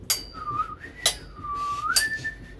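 A person whistles a melodic tune in sliding phrases, punctuated by three sharp metallic clinks that cut through between the notes.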